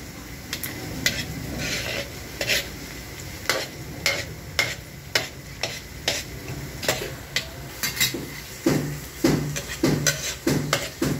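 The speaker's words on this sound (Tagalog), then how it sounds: "malapit na mag golden brown na yung bawang, ay sibuyas" Onions and garlic frying in a pan, a low sizzle under a rhythmic series of sharp spatula taps and scrapes against the pan as the mixture is stirred.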